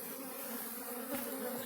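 Honey bees buzz continuously close by while being moved into a hive split, a dense droning hum with a few louder passes from individual bees.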